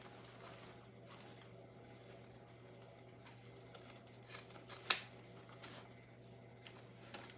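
Scissors snip ribbon trimmed on a gnome Christmas wreath, a few quiet close cuts with one sharper, louder snip standing out against a faint hum in an otherwise quiet room.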